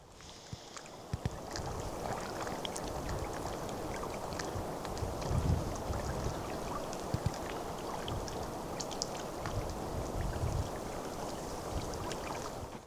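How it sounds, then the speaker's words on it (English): Steady water lapping and sloshing along the shore of Little Whitefish Lake, Itasca County, on an evening, with low wind rumble on the microphone throughout and no voices. "it's nice just to hear the water lapping up against the shore"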